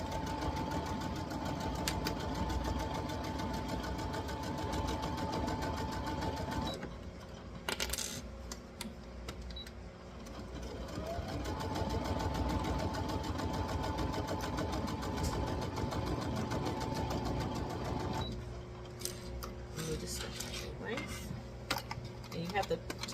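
A sewing machine runs in steady bursts while stitching a 5/8-inch seam around a curved pocket on a Simplicity 9294 garment made from vintage sheets, with a pause mid-way as the fabric is adjusted, then sewing resumes; faint talk underneath.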